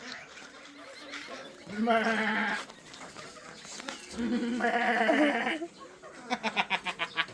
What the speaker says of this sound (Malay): Kambing-kambing semua besar-besar lah.